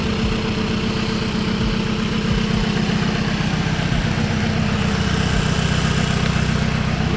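A repaired motorcycle engine idles steadily and continuously up close, with a low rumbling throb that keeps an even rhythm throughout, no voices over it.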